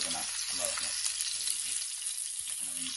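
Atlantic Ocean fish frying in a pan, with a steady close hiss of hot oil sizzling throughout and faint low clatter underneath, no talking.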